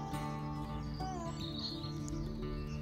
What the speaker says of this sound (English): They're so friendly robins, aren't they?